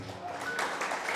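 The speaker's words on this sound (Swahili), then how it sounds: "Chapia Yesu makofi" A church congregation claps for Jesus, a dense steady wash of applause filling the whole short moment at moderate volume, with voices mixed in beneath it.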